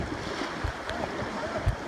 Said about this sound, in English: And last night it was raining so heavily, that's why the water is so choppy.